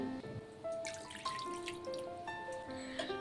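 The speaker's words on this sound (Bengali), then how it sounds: "আরও কিছুটা জল দিয়ে দিচ্ছি" Water poured into a pot of mutton curry makes a light, continuous trickling and dripping with bubbly tonal plinks, fairly quiet and steady for a few seconds with no talking.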